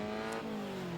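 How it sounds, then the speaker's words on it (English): A historic MG race car rounds the final corner at the Winton Festival of Speed, its engine holding a steady, slightly falling drone at moderate distance throughout the short moment. "Car 49 making his way around final corner for the MG."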